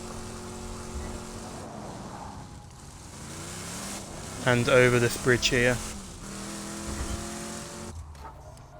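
A vehicle in the Borderlands 2 video game drives with a constant engine drone, and a burst of sharper mechanical noise comes midway, while someone talks over it.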